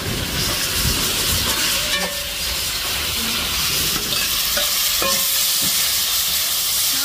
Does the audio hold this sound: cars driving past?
no